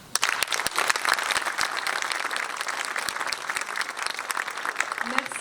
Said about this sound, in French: je vous demande d'ores et déjà de les applaudir